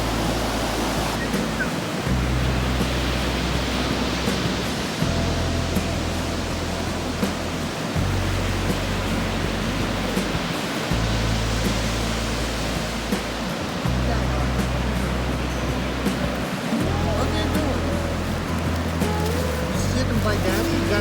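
Ocean surf rolls steadily onto the beach at Morro Bay, California, a continuous broad wash of waves with a low rumble that also carries wind buffeting.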